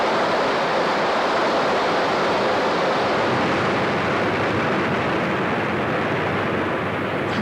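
Kuryong waterfall pours down in a dense, loud roar of falling water, a steady broadband rush with no pauses throughout.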